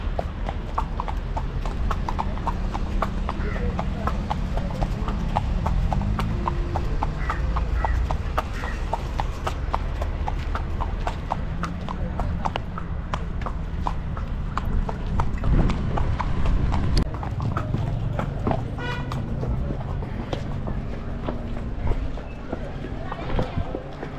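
Horse hooves clip-clop steadily throughout a long horse ride in Ooty, a continuous rhythmic trot close by, with people talking over it and other ambient noise of the outdoor park.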